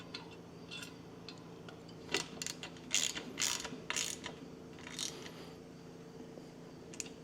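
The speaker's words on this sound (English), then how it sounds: "all I gotta do is run these bolts" Ratchet driving bolts into a tractor canopy, a run of quick close clicks in uneven bursts, some louder and sharper, over a quiet steady background hum.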